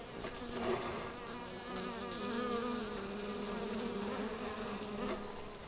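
Steady, dense buzzing of many honeybees close by at the hive during a February winter cleansing flight, a continuous droning hum with shifting tones, no voices.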